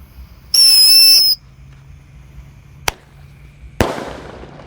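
A small Happy Power 4 firework lit outdoors lets out a loud, shrill whistle for under a second, then after a pause gives two sharp, close bangs, the last with a short ringing tail.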